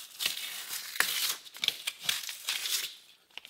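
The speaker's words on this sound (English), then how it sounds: "So I'll go along with my knife, slice it off." A knife slices off sealant squeeze-out along a vapour barrier in an off-grid cottage build, giving several short, crinkly scraping strokes up close and fairly quiet, with no talk.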